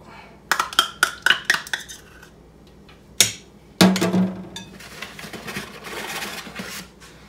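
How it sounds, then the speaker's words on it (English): Gold Medal self-rising flour goes into a mixing bowl: a few sharp clinks and taps of utensils against the bowl come first, then a loud scrape and a soft, steady rustle of pouring, all close up with no voices. "Just gonna go ahead and put this in the bowl first."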